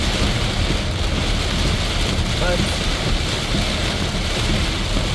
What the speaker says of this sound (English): I guess I'm driving into the rain